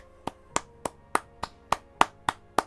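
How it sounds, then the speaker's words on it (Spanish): One person claps nine times, slowly and evenly, with crisp separate hand claps close by and quiet between each strike. "Un aplauso."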